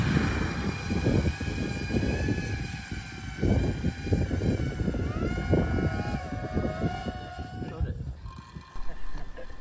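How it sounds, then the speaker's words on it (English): VTOL Nano Talon quadplane model aircraft running Ardupilot taking off, high-pitched electric motor whine rising and shifting in pitch over rough wind noise, close then drawing away, with people talking over it. "Here's one of my first rapid takeoffs."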